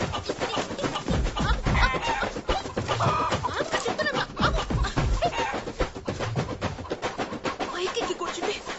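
A chicken clucks and squawks while being chased around a home in a comedy film scene, its agitated calls mixed with a busy, close commotion and some voices.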